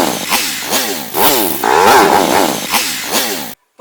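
A Honda XR600R motorcycle fitted with aftermarket exhaust mufflers revs up and down in repeated loud blips, ending with a brief silence.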